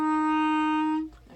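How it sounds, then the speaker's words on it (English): A single clarinet F, fingered by adding only the thumb key, is held steadily for about a second and then stops, followed by faint room noise. "F is just adding that thumb key."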